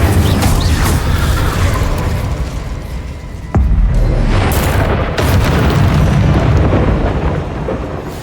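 An Incendio fire spell blast in the video game Hogwarts Legacy, a loud, dense roaring burst that fills the whole clip, with a sharp hit partway through and a second surge of rumbling flame after it.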